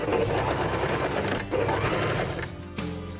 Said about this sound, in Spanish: la máquina va a ir marcha atrás hasta que dejes de presionarlo y retoma su marcha hacia adelante